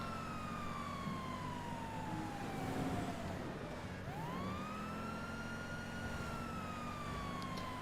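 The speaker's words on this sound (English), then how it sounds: "the cars are getting out of my way because I have the lights and sirens on" A police car siren in Grand Theft Auto, from an LSPD patrol car, wails continuously, its pitch sweeping down and then back up in a long, steady cycle, loud and close.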